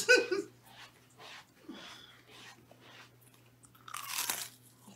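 Fried fish is bitten and chewed up close, giving a few soft crunches and munching sounds with quiet breathing between them.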